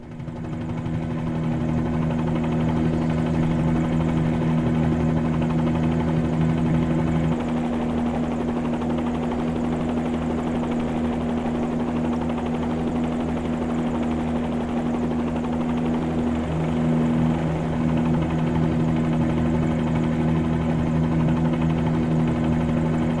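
Simulated helicopter from Microsoft Flight Simulator 2020, flying low and slow over Kharkiv city: a steady, loud rotor and turbine drone with a constant hum held evenly throughout, no voices.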